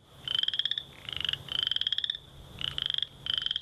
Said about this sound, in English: the call of the male chorus frog sounds a bit like when you ripple the teeth of a comb